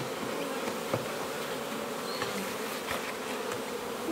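Honeybees buzzing steadily and densely around an open hive after a brood inspection, a continuous close swarm drone with a few faint clicks, no talking.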